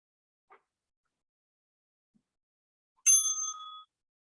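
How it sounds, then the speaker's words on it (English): A bright bell rings once near the end to mark the final workout interval, a short clear ding that rings briefly in otherwise near silence, with a faint tick or two before it. "And that's your final bell."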